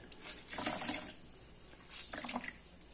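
A wet cloth, soaked for covering a burner fuelled by used cooking oil or denatured alcohol, is wrung out, giving two short bursts of splashing, trickling water with a quiet pause between them and no talk.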